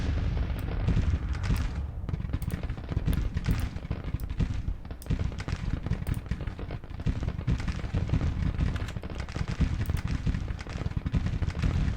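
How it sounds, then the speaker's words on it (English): Artillery and small-arms fire in Grand Tactician: the Civil War, with 6-pounder guns in an 1863 Confederate battle, heard as a dense, continuous barrage of overlapping booms and crackling shots, loud and close with no pauses. "Oh, that's a lot of artillery that's firing on me over here."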